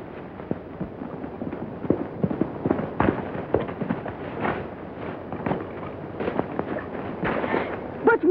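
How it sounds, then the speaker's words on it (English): Gunshots ring out in a 1932 western film, a series of sharp, crackling reports scattered irregularly over several seconds in muffled, lo-fi old film sound, with faint voices now and then. "Butch Martin shot him."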